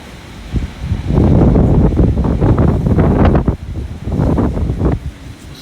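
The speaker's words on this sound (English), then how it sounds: "It's a very bad storm coming, very windy." Strong storm gusts of wind in Porac, Pampanga, roar and buffet the microphone in loud surges, briefly easing before blasting again.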